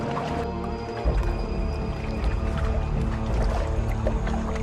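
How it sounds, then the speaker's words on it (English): Water sloshing and gurgling as a water skin is filled at a river, a continuous liquid wash with drips and squishy bursts, loud and close without any talk. "He immediately started filling the water skin"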